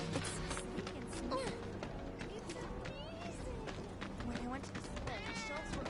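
A cat meows a few times in the game Final Fantasy VII Remake, faint short cries mixed into a busy scene with chatter and other background sounds.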